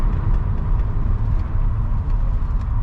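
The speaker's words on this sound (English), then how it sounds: "Now it won't go over a quarter throttle." A BMW 635CSi, revived after years of sitting, with its engine unable to rev past quarter throttle: a loud, steady, close engine drone with little change in pitch.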